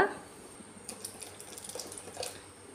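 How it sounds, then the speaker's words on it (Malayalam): Hot water poured into a pot of Kerala green gram (cherupayar) curry, a soft trickling splash with faint burbling close by, no talking. "ഇനി ഇതിലേക്ക് നമുക്കൊരു 1/4 കപ്പ് തൊട്ട് 1 കപ്പ് വരെ വെള്ളം ഒഴിച്ച് കൊടുക്കാം"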